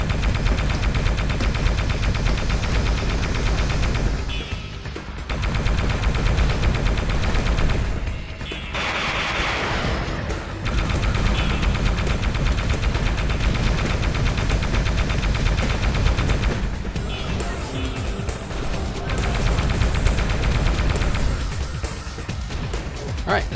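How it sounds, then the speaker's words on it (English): Sustained anti-air gunfire in the video game Gun Metal, a dense continuous rattle of rapid shots with heavy booms, loud and nearly unbroken across the whole stretch with only brief dips. "Anti-air fire, go!"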